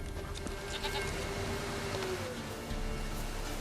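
A goat in the video game The Witcher 3 gives a single drawn-out bleat over a steady bed of ambient game noise and a low background hum.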